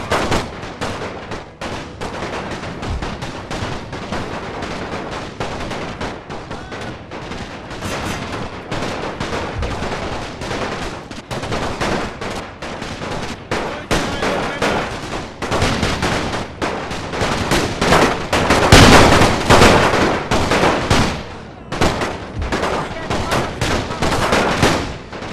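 Dense, continuous gunfire in a World War I video game battle: rapid rifle and machine-gun bursts overlap with heavier booms, loud and sustained throughout, swelling toward the end.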